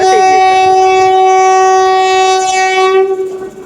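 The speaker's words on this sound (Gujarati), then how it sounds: "આ ટ્રેન છે ને ક્યારને હોર્ન મારે છે, હજી ઉપડતી નથી." Train at Udhna railway station blowing a long, loud, sustained horn that holds steady for about three seconds and then cuts off, close by.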